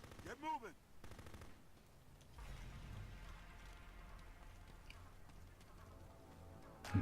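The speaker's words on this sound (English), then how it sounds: "We're being shot at, we're in a battle." Gunfire from the Full Spectrum Warrior video game: a few sharp shots at the start, then a steady rumbling barrage of battle noise that continues throughout, with voices talking in the background.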